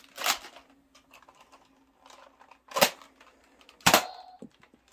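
A Nerf Fortnite SPL Elite dart blaster fires three sharp, snappy shots spaced about a second or more apart, each followed by faint mechanical clicks and rattles from handling, in an otherwise quiet room.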